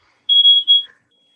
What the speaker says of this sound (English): My smoke detector is going off.